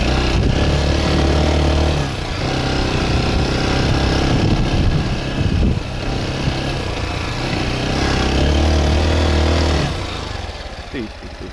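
A Honda XR 190 CT motorcycle riding off-road slowly in second gear, its loud engine chugging and droning continuously near the microphone with small throttle changes, while a person's voice comes in over it.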